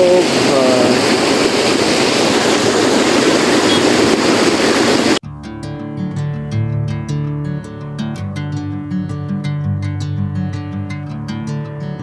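Loud, steady roar of rushing water in a jungle during rain fills the first half, then cuts abruptly to music with plucked notes and percussion.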